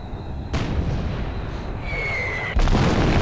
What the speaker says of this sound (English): So they're firing on us